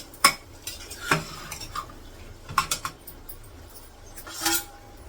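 Soaked chickpeas get mixed in a pot, heard as scattered spoon clinks and knocks against metal between quiet stretches. A few sharp taps come close together and there is no speech.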